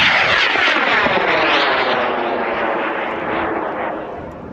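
A large high-power model rocket with a GPS and telemetry payload launching at an outdoor event, a loud continuous roaring rush of motor exhaust that fades slowly as it climbs away.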